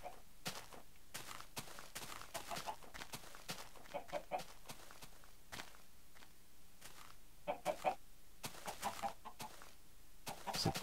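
Minecraft chickens cluck in short, scattered bursts throughout, alongside soft footstep-like taps, with someone talking intermittently over them.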